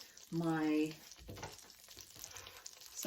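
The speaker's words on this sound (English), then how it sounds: "The butter is just about melted now." Butter melting in a pot on the stove for a wild rice corn chowder, giving a soft, steady sizzle and crackle under a brief voice, with light clinks near the end.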